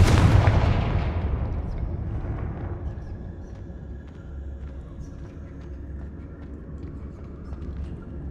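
A fire-spell explosion in the video game Hogwarts Legacy: a loud, heavy blast bursts at the start, then its rumble decays over a few seconds into a low, steady game ambience.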